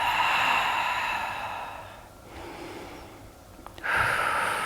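Slow breathing during a yoga twist: a long, soft exhale fades out, then a quieter breath follows and a sharper inhale comes near the end, close and clear with no talking.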